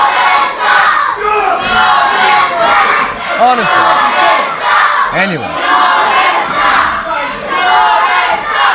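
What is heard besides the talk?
wrestling crowd shouting and cheering at Witham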